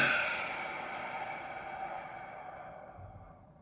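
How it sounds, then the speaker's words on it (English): A single long, deep breath is drawn and let out slowly, close and soft, fading gradually with no talking over it. "Now I want you to breathe deeply."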